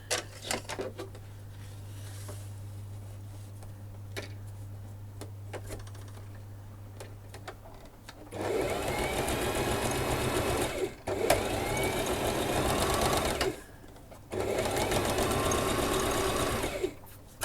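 Sewing machine stitching through a blank junk journal, rapid mechanical clatter in two loud bursts after quieter handling noises, with a brief stop between runs.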